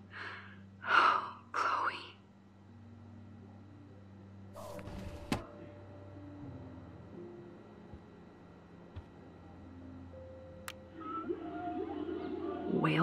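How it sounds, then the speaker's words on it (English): Whale song plays faintly in a dark room in the game Life Is Strange: low, drawn-out tonal calls. Breathy sounds come first, then scattered thumps and a sharp knock, with a brighter rising wash at the end. "Whale songs?"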